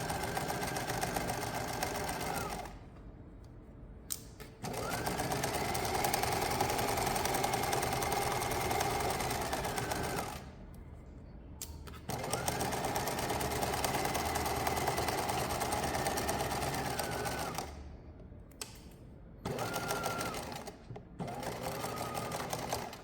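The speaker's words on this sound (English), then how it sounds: "So now I'm going to sew just to the left side." A sewing machine stitches a backpack side seam in long steady runs with a humming drone, broken by short pauses where the stitching stops and restarts, close and alone.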